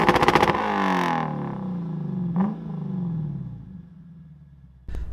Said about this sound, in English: It has a pretty loud exhaust, which I'll cut over to a clip for you guys.